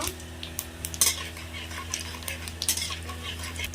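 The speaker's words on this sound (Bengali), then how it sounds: "কড়াইতে দেব গোটা জিরা, গোটা গরম মশলা দেব।" A utensil stirs and scrapes whole cumin and garam masala around a wok, with repeated metallic clinks and scrapes over a low kitchen hum.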